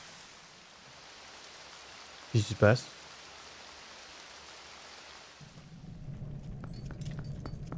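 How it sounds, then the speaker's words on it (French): Steady rain hiss fills an outdoor scene in the video game Zelda Twilight Princess HD, broken by a short spoken question, then fades near the end as other game sounds take over. "J'ai fait arrêter la pluie."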